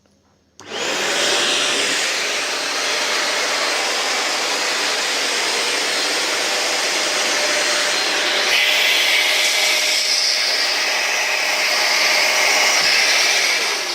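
A Fantom P1200 vacuum cleaner switches on and runs with a loud, steady roaring whine close by, its pitch shifting slightly partway through as suction changes, with no talk.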